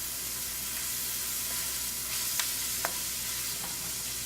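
Garlic frying in a pan gives a steady, even sizzle and hiss throughout, with a couple of faint stirring clicks from a utensil, close by and with no talking.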